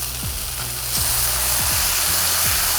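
Burger patties sizzle loudly and steadily over high heat as they are flipped. A dense frying hiss is broken by a few dull thuds and scrapes from the turner, with no talking.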